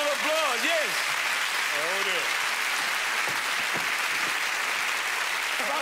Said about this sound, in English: A big round of applause, yes!